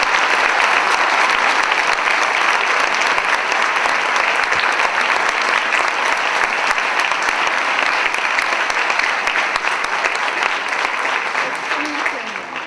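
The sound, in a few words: audience applause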